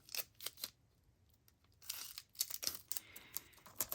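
Scissors snip through a wide strip of recycled tape, giving a few close, crisp cuts and crinkles in quick bursts with short pauses between them, quiet and without talking.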